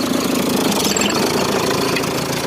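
A tractor's 1.9-litre turbo diesel engine idling, a steady loud rumble with a slight knocking clatter, heard close up and alone without talk.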